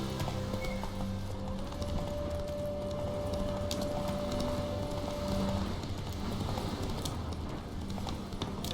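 Horse hooves galloping in The Witcher 3 video game, a steady busy clatter with a whinny under constant game ambience and music, lasting the whole stretch.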